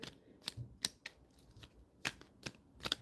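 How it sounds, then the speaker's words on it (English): Tarot cards are shuffled in crisp, separate riffles and snaps, several sharp bursts spaced apart against a quiet background, with no talking. "this card came out as I'm shuffling"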